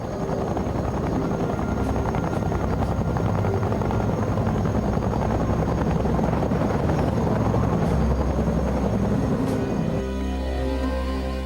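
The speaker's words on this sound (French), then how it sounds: "les troupes d'assaut arrivent par hélicoptère avec le reste de la 173e brigade" Military helicopters carrying assault troops of the 173rd Brigade roar loudly and continuously, a dense rumbling thump of rotors that shifts slightly near the end.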